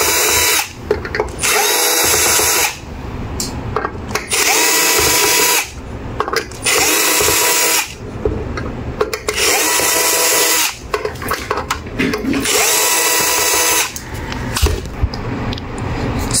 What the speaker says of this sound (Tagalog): So ngayon ay tanggalin natin tong screw